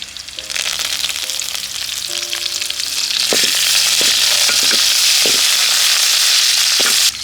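Curry leaves and chopped coriander hit hot oil for restaurant-style Gobi 65, setting off a loud, close, continuous sizzle that swells and stays intense. A spatula knocks and scrapes against the pan several times.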